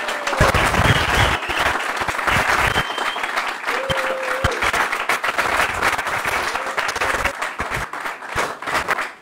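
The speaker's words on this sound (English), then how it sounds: "let's give her a big round of applause." An audience bursts into loud, sustained applause, dense clapping filling the room steadily for several seconds with some voices mixed in.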